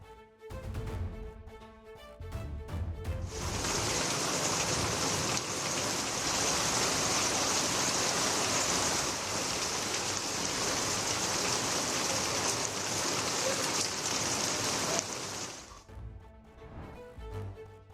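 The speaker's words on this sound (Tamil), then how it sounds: "கடலூர் மாவட்டம் சிதம்பரம் சுற்றுவட்டார பகுதிகளில் இடி மின்னலுடன் கனமழை கொட்டி தீர்த்தது" Heavy rain pours down around Chidambaram in Cuddalore district during a thunderstorm, a dense, steady hiss of downpour filling about twelve seconds, framed by quieter background noise at the start and end.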